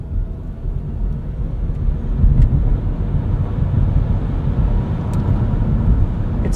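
A 2024 Nissan Leaf SV Plus electric car accelerating hard from 0 to 60 on a highway, heard from inside as a low rising hum and road rumble that swells steadily.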